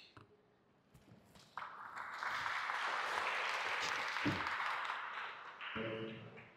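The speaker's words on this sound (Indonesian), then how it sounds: "Kita beri tepuk tangan sekali lagi yang meriah untuk Romo Rizal" A church recollection crowd breaks into sustained applause that swells and holds for several seconds before tapering off, with a few voices mixed in.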